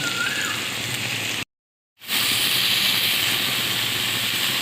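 A steady hiss of potatoes frying in a pan runs throughout, broken by a brief moment of silence partway through.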